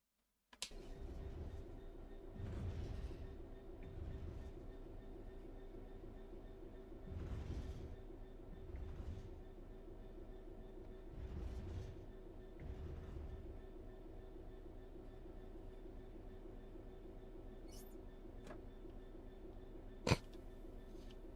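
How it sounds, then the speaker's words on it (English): Locomotive coasting on level ground in a train simulator video game, a low steady rumble with rhythmic swelling clatters from the wheels and a sharp click near the end, with no talking. "The train will then coast on level ground, and the train will only slow down very gradually."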